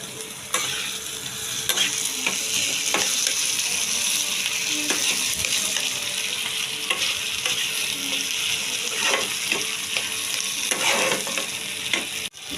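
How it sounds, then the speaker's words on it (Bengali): Onions sizzle and fry in a pan while a utensil stirs and scrapes them in repeated strokes, a loud, close, continuous crackle with periodic scraping knocks. "দেখো পেঁয়াজটা ভাজা হয়ে গেছে অনেকটাই"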